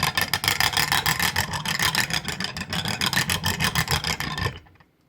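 A silver rod being rolled back and forth on a hard surface to straighten it, a close rhythmic rasping rumble in quick repeated strokes that stops abruptly near the end.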